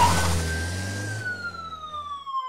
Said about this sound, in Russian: Полицейская машина устремилась в погоню.